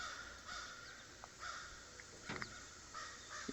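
A crow caws a few times at a distance, faint against steady outdoor background noise in a garage setting.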